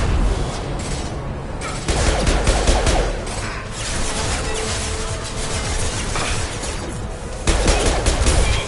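Sustained bursts of rapid gunfire in Mass Effect 2, dense and loud throughout, with heavier booming volleys near the start and end, and no voices.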